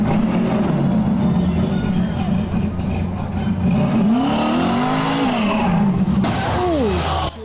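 A 1967 Shelby Mustang V8 rumbles loud and close, revving up and down in swooping pitch sweeps as the car pulls away, heading to a cruise night.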